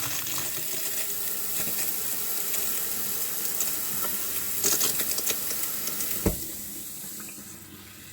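Hot-side kitchen faucet in an RV running freely after air has been purged from the line, a steady broadband water rush with a few clicks and a sharp knock near the end, close and alone.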